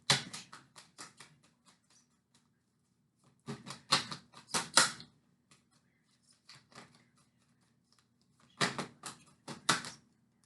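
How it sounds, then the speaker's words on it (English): Tarot cards are flipped and shuffled in quick clusters of soft, crisp flicking snaps, several bursts separated by quiet pauses, close and fairly faint. "We've got a lot of cards flipping over here."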